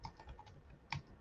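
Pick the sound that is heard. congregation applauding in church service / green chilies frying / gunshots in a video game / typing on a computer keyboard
typing on a computer keyboard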